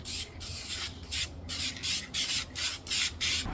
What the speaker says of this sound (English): I won't say it's the best spraying can I've ever used.